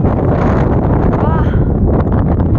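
Strong spring wind roaring over a mountainside on Bukhansan, a dense, loud, continuous buffeting rush hitting the microphone without a break.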